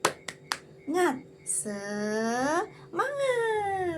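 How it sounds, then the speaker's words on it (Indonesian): A classroom group does the tepuk semangat ice-breaker, a few sharp hand claps opening a rhythmic clapping pattern before voices take over with drawn-out, sung chanting. "Yuk, tirukan bareng-bareng ya. Tepuk semangat."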